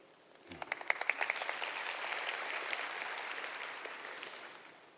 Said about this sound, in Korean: 큰 박수 부탁드립니다.